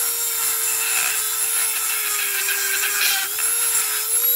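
A rotary trimmer with a stone cutting wheel bores a hole in a fender for a 2019 Volvo VNL 860 truck, a steady high whine with a grinding hiss, loud and close, pitch dipping briefly as it bites.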